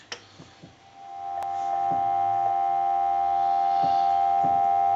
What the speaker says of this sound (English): And we'll give you some dial tone.